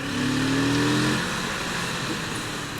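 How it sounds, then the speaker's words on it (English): Kawasaki Z650 RS modern-classic motorcycle engine revving loud and close, a throaty rise in pitch that then settles into a steady roar. "that crankshaft does provide a different, more throaty sound, it has more bass to it"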